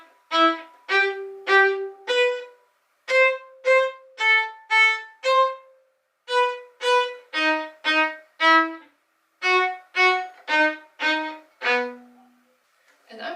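Short detached bow strokes at the tip of a bowed string instrument, played as a Sevcik second-variation staccato exercise, fall in quick groups of four with brief pauses between. The notes are crisp, close and alone with no talking.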